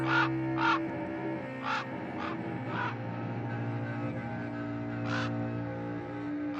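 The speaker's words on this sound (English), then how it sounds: "in there stepped a stately raven of the saintly days of yore" A raven caws repeatedly, harsh rasping calls coming in uneven clusters of two or three over a steady low hum, fairly close and clear, with no talking.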